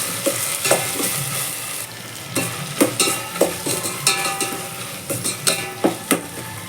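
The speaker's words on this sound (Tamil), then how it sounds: "இந்த தக்காளி வெங்காயத்தோடு இதை சேர்த்துட்டு நல்லா வதக்கிடுவோங்க" Okra being sautéed with tomato and onion in a pan, a close, continuous sizzle broken by regular scraping and clacking strokes of a spatula stirring, about two per second.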